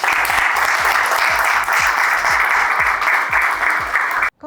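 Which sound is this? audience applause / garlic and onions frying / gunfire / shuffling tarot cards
audience applause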